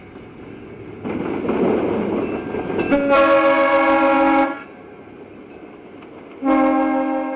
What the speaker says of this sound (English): a westbound Amtrak train rounds the curve